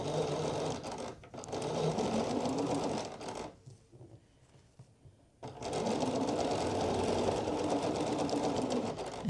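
A sewing machine stitches the neckband seam of a cashmere-style hoodie, running in a fast steady whir, stopping for about two seconds, then whirring on again close and loud.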